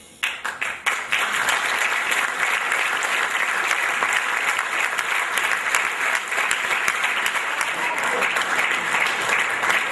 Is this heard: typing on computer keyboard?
no